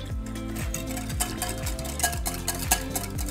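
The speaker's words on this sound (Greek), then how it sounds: "Και ανακατεύω πάρα πολύ καλά με ένα σύρμα." A wire whisk beats water, olive oil and sugar in a bowl with quick, steady metallic swishing strokes, close and continuous, with no talking.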